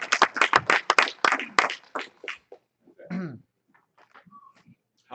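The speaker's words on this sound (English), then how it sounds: "So give yourself a round of applause." A crowd at a live-streamed group training session claps, a dense round of applause at the start that thins to scattered claps and fades into quiet, with a few voices after.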